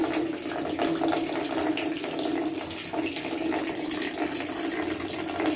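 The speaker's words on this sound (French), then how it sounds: "le chasse d'eau qui s'arrête pas de venir sans arrêt" A toilet cistern that won't stop filling gives a continuous, steady rush of running water, close and even throughout with no pauses, heard alone.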